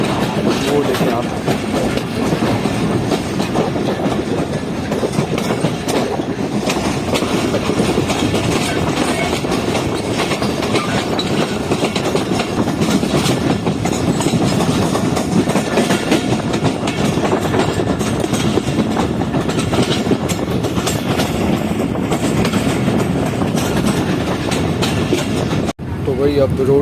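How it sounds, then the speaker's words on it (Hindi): The Karakoram Express rumbles steadily along the rails as heard from inside a coach, a loud continuous roar with faint rhythmic clatter throughout and a brief dip near the end. "तो भाई अब रोड़ी से ट्रेन चल चुकी है"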